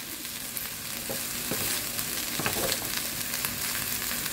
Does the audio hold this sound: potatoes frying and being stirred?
yes